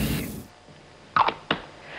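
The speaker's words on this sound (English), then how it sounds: "This is an antiperspirant spray called Sure." Sure antiperspirant aerosol spray, released in two short hissing bursts close up after a fading stretch of sound, with quiet gaps around them.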